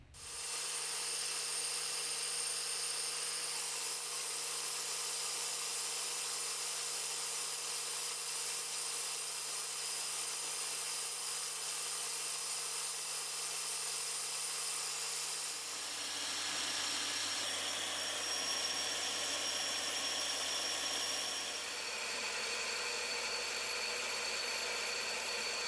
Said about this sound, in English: I have some 1/4-inch aluminum stock chucked up in the lathe